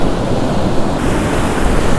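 Ocean waves break over coastal rocks in a continuous loud wash of surf, mixed with gusty wind buffeting the microphone, with no distinct individual crashes and no voices.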